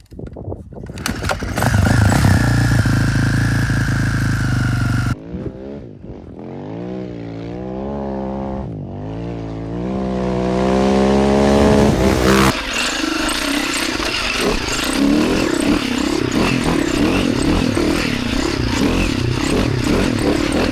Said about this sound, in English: Husaberg 650. This particular bike is a 2004 Berg 650